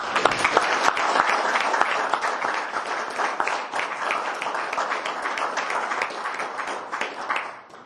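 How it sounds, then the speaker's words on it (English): Applause at a city council meeting, a close, brisk burst of many hands clapping that holds strong for several seconds and then tapers off at the end. "Let's give him a round of applause."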